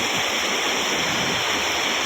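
A flooded river rushing in heavy Konkan monsoon rain, a dense, steady roar of fast-moving water, loud and unbroken.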